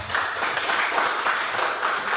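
Students in a classroom clap for a classmate, giving a brief burst of lively, moderately loud applause from several hands at once.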